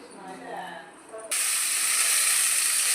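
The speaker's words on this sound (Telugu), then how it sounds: "పేస్ట్ని ఇందులో వేసి మంచిగా ఫ్రై చేస్తాను." Ground paste hits hot oil in a pan for a kaju paneer curry, bursting into a loud, steady close sizzle after a short stretch of quieter kitchen sound.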